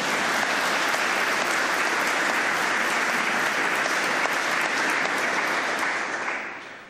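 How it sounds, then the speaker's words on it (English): A courtroom audience at a judge's robing ceremony applauds in a dense, sustained burst of clapping that holds steady for several seconds before tapering off at the end, with no talk over it. "We can give them applause."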